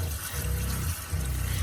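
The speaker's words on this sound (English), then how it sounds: "As you can hear, the pump is kind of loud, but yeah, you get over it. Running water." A van's onboard water pump hums in low steady pulses while tap water runs continuously into a sink, the hiss of the flow and the pump drone close and loud with a short dip partway through.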